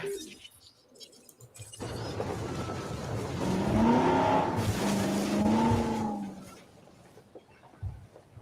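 A truck drives in the video game Jurassic World Evolution. The engine swells from a low rumble to a louder, whining run, then tapers off again, with faint talk underneath.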